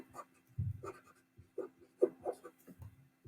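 A pen scratches across paper in short, separate strokes while a mirror ray diagram is labelled, close and quiet with brief gaps between marks.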